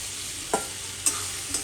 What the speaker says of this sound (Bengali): তো এখানে আমি এখন পটলগুলো অ্যাড করে দেবো।